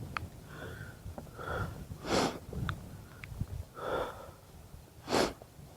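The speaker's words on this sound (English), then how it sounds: "Oh, sniffling." A person with a cold sniffles outdoors on a cold, wet, rainy day. A few short, sharp nasal sniffs rise over quiet, steady breathing at close range, faint overall.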